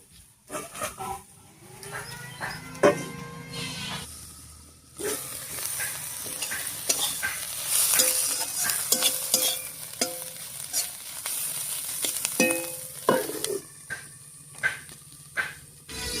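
Banana stem cooks in a pan with the lid on and off. A steady sizzle runs under repeated loud scraping stirs and clanks of the utensil against the pan.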